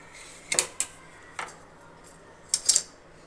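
A knife trims the edges of rolled puff samosa dough, giving a few sharp clinking taps against a board or plate in two brief clusters over a quiet background.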